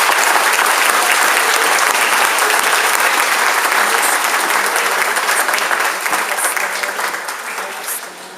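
A school awards ceremony audience applauds for students, a loud, sustained roar of many hands clapping together that holds steady for several seconds before tapering off.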